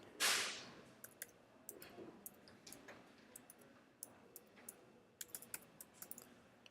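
Quiet clicking of a computer keyboard as a username and email are typed, irregular light keystrokes in short clusters after an opening thump, close and soft with no talk.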